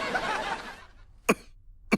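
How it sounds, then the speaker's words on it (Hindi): Two short, sharp coughs come close together near the end, following a burst of breathy, noisy sound at the start. "खांस क्यों रहे हो?"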